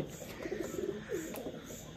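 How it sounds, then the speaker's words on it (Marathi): Pigeons coo softly in short, repeated throaty bursts, close by, against a faint background hum. "एवढे कबूतर आहे आता"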